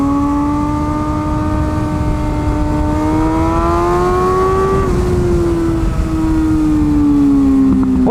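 A Kawasaki ZX6R sport bike screams along a race track, its high-pitched engine note climbing steadily through the revs, dipping briefly at a shift, then pulling hard again, loud and close with no talking.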